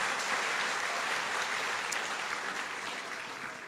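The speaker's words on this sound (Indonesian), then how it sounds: "silahkan tepukkan" A student audience at a university discussion with Anies claps in a steady, dense burst of applause that slowly tapers toward the end, with no talking over it.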